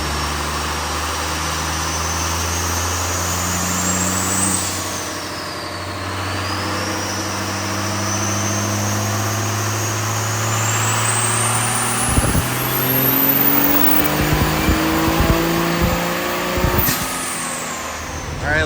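A diesel truck with a VP44 injection pump running on a dyno, the engine droning steadily and then climbing in pitch through a long pull before rattling and dropping back, loud and close with a rising whine above it.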